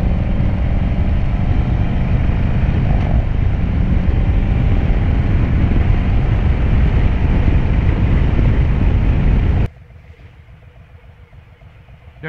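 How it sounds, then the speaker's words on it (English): A 2020 Harley-Davidson Road Glide with a Stage 1 upgrade rumbles loudly and continuously up close, a deep steady exhaust drone that cuts off abruptly near the end, leaving quieter ambient noise. "Y'all hear the bike? Y'all hear that exhaust?"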